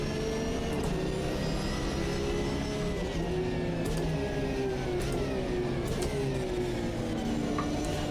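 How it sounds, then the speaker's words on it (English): Porsche GT3 race car in the Automobilista 2 racing game, its engine revving steadily with rising and falling pitch and a whining gearbox, loud and continuous throughout with no voices. "A lot of nice noise out of this car, gearbox wise."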